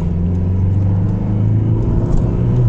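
Car accelerating on winter roads, a loud, close engine rumble with a steady low hum that builds slightly, constant throughout with no speech.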